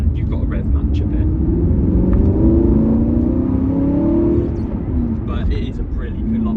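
A 2016 Aston Martin V8 Vantage 4.7 S with a six-speed manual gearbox and a V8 engine revs up. A deep, steady rumble swells into a rising, sustained growl midway through before easing back.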